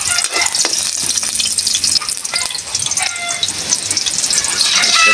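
Onion sautéing in a hot pan, a steady loud sizzle with stirring scrapes throughout.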